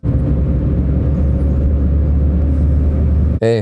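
Loud, steady low-frequency road and engine rumble fills the cabin of a first-generation Renault Twingo while driving, with almost no sound insulation; the drone holds constant, then ends in a sharp burst of noise.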